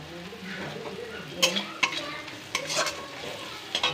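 Chili and cumin powder are stirred in a hot pan for an egg curry, with a spoon scraping and tapping against the pan in several sharp knocks over a soft background sizzle.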